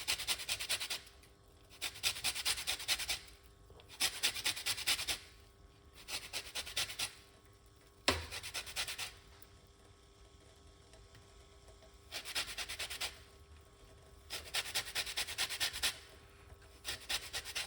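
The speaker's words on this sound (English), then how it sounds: "we have to zest the lime to get the medicine from the lime" Lime rind scraped against a zester in repeated rasping strokes, about eight bursts of steady rubbing separated by short pauses, close and fairly loud with no talking.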